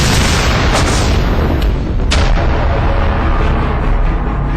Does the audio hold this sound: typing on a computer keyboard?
no